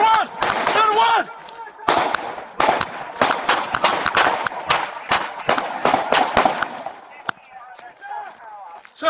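Police fire a rapid series of loud, sharp gunshots during a traffic stop, close and cracking in quick bursts, with shouting voices overlapping and continuing as the shots end.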